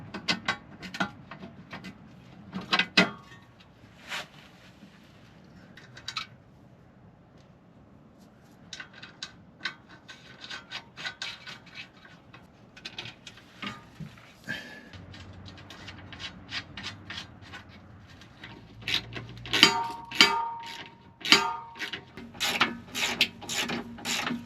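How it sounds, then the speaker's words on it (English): Ratcheting wrench tightening 1/2-inch carriage bolts on a transmission skid plate under an AWD Mercedes Sprinter van, heard as bursts of quick ratchet clicks and metallic rubbing, sparse at first and then denser and louder toward the end. "So we'll put those 1/2-inch carriage bolts back in and start to get everything tightened down."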